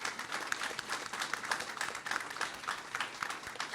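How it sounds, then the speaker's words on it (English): A school audience claps for student cheerleaders, choir members and ambassadors at a district academies announcement; dense, fairly quiet applause runs steadily throughout. "So I'd appreciate it if we could give these kids a round of applause."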